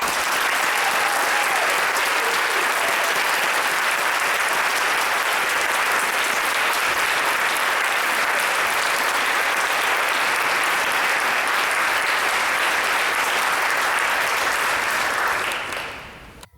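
Dense, sustained applause from a large audience at a book talk welcoming the speakers, loud and continuous for about fifteen seconds before tapering off sharply at the end.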